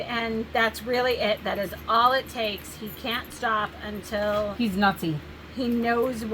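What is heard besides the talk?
None of the usual background noises is heard.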